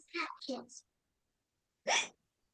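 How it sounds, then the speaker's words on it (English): Hiccups from a man sound as a burst of short gasping vocal hiccups and then, after a pause of over a second, one more loud hiccup, close and clear with no other talk. "hiccups are spoiling the game"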